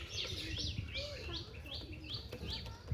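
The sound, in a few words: pigeons for sale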